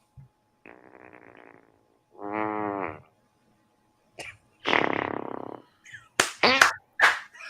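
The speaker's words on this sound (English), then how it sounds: "He's farting." A movie ending plays a series of loud, wet, sputtering fart sounds, some long and some short, separated by silent gaps and ending in a few sharp bursts.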